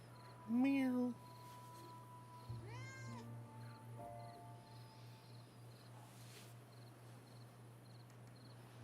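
A cat meows once, loud and close, then a quieter second meow follows over a steady electronic hum and game music tones.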